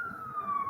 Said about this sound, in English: Did you hear the sirens just go by?